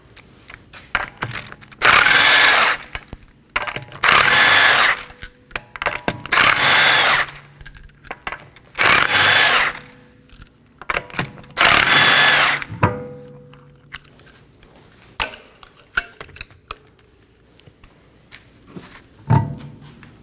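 An impact wrench spins five 21mm lug nuts off the rear wheel of a 2018-2024 Toyota Camry in loud bursts of about a second each, with rattling and clinks of nuts in between, close up and without talk.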